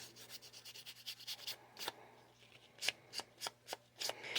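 A tool rubs along the edge of a handmade mini card to take off ragged bits, making soft rasping scrapes, first as quick faint strokes and then as sharper separate swipes, close and quiet with no talk.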